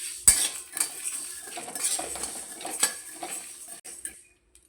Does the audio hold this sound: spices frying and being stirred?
yes